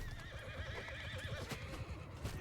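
A horse in Mount & Blade II: Bannerlord gives a drawn-out whinny over soft clip-clopping hooves, fairly faint and heard alone without talk.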